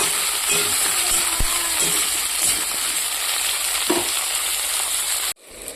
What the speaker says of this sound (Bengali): ফুলকপিটা একটু লাল লাল করে ভেজে নেব